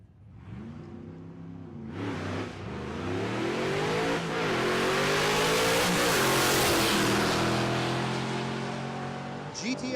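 LS3-swapped GTO accelerating hard down a drag strip at Texas Motorplex, a loud engine roar climbing in pitch through stick-shift gear changes, swelling as it nears and passes, with faint talk underneath.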